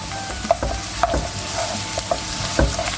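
Tomato paste fries with onions for a radish-greens dish, with a constant close sizzle and several sharp scraping knocks of a spoon stirring the pan.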